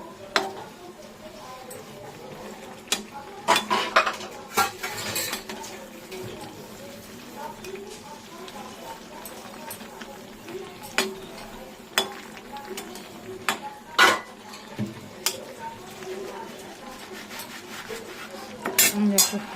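Vegetables are stirred with spices in a cooking pot, giving intermittent metal scrapes and clinks of a utensil against the pot, spread across a quiet background with soft sizzling between the knocks.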